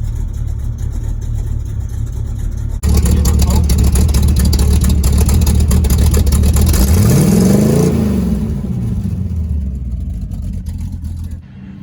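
The engine of a 1982 square body truck runs after an oil filter fill, a loud steady idle that kicks in suddenly, rises and falls briefly in pitch, then settles and fades slightly.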